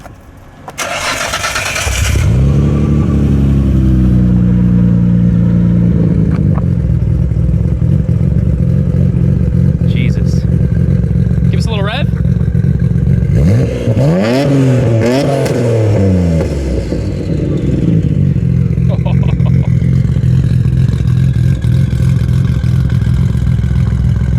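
A modified Nissan GTR fires up with a starter whir and a loud bark, then settles into a rough idle and is blipped into several sharp, rising revs, close and loud with no talking.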